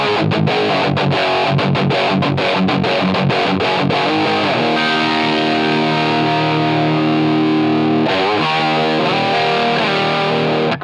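Electric guitar through a high-gain overdrive pedal, with thick saturated chords and quick muted chugs, loud and close, before long sustained distorted chords ring out with no talking.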